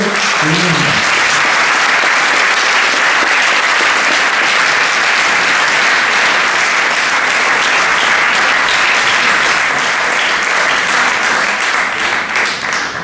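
A rally crowd at a French departmental election event for Bordeaux-3 applauds loudly and steadily, dense sustained clapping filling the room without letting up.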